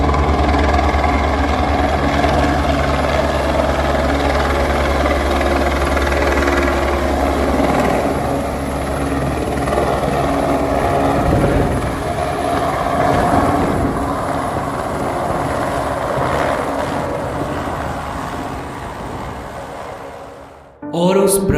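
A helicopter runs at the Kedarnath helipad in the mountains. Its steady, loud engine and rotor drone continues for about twenty seconds, then cuts off abruptly at the end.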